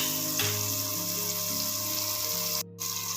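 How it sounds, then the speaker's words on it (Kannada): Vegetables tossed with salt frying in a hot pan for breakfast, a steady close sizzle with a faint scrape around the half-second mark and a brief break near the end, no talking. "ಉಪ್ಪು ಮತ್ತು ತರಕಾರಿ ಎಲ್ಲ ಮಿಕ್ಸ್ ಆಗಬೇಕಲ್ವಾ, ಅದಕ್ಕೆ ಫ್ರೈ ಮಾಡ್ಕೊಳ್ಳೋಣ"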